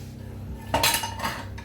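Metal spoon stirring a pot of red tomato-paste village soup, giving a short burst of scraping clinks against the pot, close and clear over a quiet background.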